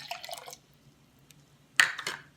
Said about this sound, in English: now I'm going to put some cold water, fresh from the tap, and put about a half a cup inside the calorimeter